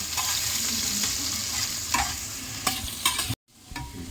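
Two medium chopped onions frying in a pan for chicken curry, a steady sizzle with several scraping stirs, cut by a sudden brief silence near the end before the frying resumes.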